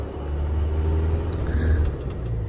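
A van rolls along a road in Poland with a low, constant engine and tyre rumble heard from inside, the drone staying even with a slight rise near the end.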